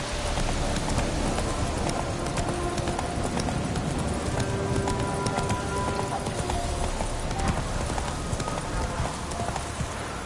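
In The Witcher 3, Roach the horse gallops with rapid, continuous clip-clop hoofbeats close up, dense and steady throughout, with faint snorts and game ambience mixed in.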